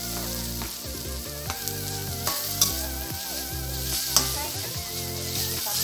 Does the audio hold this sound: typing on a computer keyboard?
no